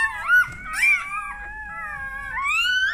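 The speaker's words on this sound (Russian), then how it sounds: "Это вот день-два, не больше, совсем маленькие щенки." Newborn puppies only a day or two old whimpering, close and fairly loud, with high, wavering whines and thin howl-like cries overlapping one another, drawn out and rising at the end.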